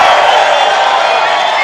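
A large crowd at a Trump rally in Butler, Pennsylvania roars and cheers, a loud, dense, sustained wash of voices filling the whole moment without a break.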